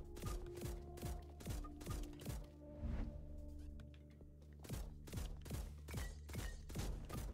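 Repeated gunshots from a weapon in the horror shooter game Bloody Hell, firing in steady single shots with short gaps, loud and close, over a droning game background with no talk.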